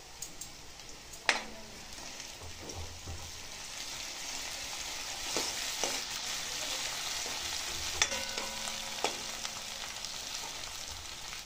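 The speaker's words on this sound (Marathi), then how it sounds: "आता लसूण, जिरं आणि कोथिंबीरची पेस्ट घालूया." A coarse paste of garlic, cumin and coriander sizzles steadily in a pan with sautéed onion, soft frying hiss broken by a few sharp clinks of a stirring spoon, no talk.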